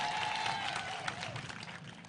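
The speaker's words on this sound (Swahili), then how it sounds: "Na mbona hiyo makofi ni kidogo sana kwa hiyo maneno?" A crowd at a political rally in Samburu gives light, scattered applause, a thin and fairly soft patter of clapping that runs throughout.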